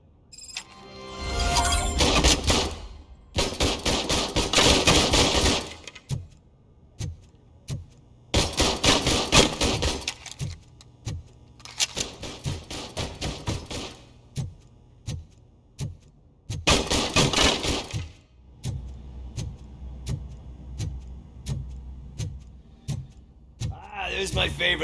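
Gunfire in a RoboCop video game comes in several long, loud bursts of rapid automatic fire separated by short pauses with scattered clinks and single shots.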